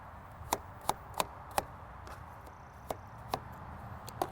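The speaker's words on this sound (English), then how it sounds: "we can just slice it down the edge to get rid of the seeds and the core" A knife slices an apple to cut away the seeds and core, a series of sharp, evenly spaced chopping taps on a board, close and fairly quiet, with no talking.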